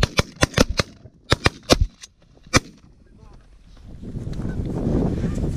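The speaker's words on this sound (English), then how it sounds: "Good shooting, boys" Shotguns fire at geese during a goose hunt: a rapid volley of about nine sharp, close blasts in quick succession, then the shooting stops and a rising rumble of outdoor noise follows.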